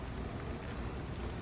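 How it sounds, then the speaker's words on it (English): Outdoor rain falls steadily in cold weather, a soft even hiss of drops without breaks over a very short stretch. "the rain's pouring too. it's starting to come down."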